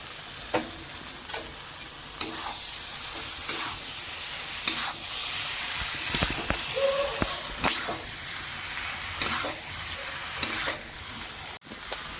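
Paneer frying in a spiced masala while being stirred with intermittent scraping, a steady sizzle running underneath, and no talk.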